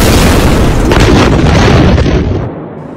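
The 2020 Beirut port explosion: a huge, deep explosion booms with a thick wall of rumbling noise that holds for about two seconds before slowly fading.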